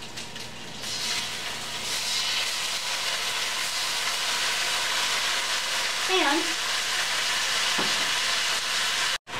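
A steady, loud sizzle of pork frying until crispy in a hot pan fills the clip, with a brief spoken word and a few faint clinks.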